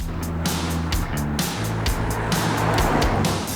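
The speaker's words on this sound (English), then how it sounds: "So in the diesel now, and straight up you can make out that this car is much more refined than the earlier one." A 2019 BMW 3-series diesel sedan driving on mountain roads in India, its engine humming steadily from inside the cabin with shifting tones as it pulls, under a constant rush of road and wind noise.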